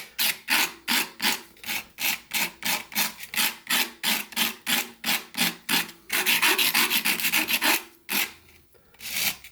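A whittling knife edge is rubbed against 120 grit sandpaper in about twenty steady back-and-forth rasping strokes, close and loud, quickening into a faster run before stopping.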